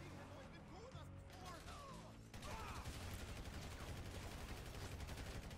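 Gunfire from Grand Theft Auto V gameplay: dense rapid shots and bursts that grow louder and more continuous partway through, layered under game sounds and voices talking over the action.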